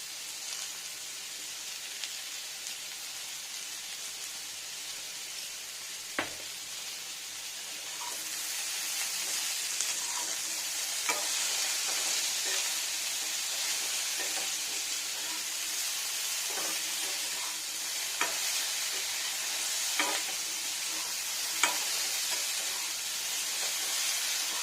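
Jackfruit curry fries in a pan with a continuous close sizzle and hiss, steady throughout, with occasional soft clicks and scrapes as it is stirred.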